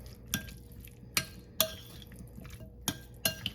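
Chicken being stirred with sauce in a bowl, a handful of sharp utensil clinks against the bowl at an irregular pace between soft wet mixing sounds, close and fairly quiet, no speech.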